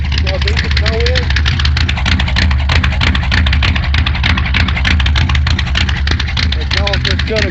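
A Tahoe 4WD engine idles in deep snow during a winter storm in Arkansas, a steady low rumble running throughout, with people talking over it.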